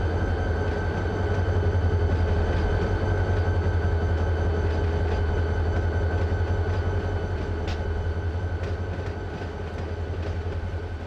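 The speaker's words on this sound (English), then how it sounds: "Yeah, sounds good when that engine rolls by." Locomotive rolling by in Run 8 Train Simulator, a deep steady diesel rumble with faint rail clicks and rattles, sustained and loud for several seconds with no talk.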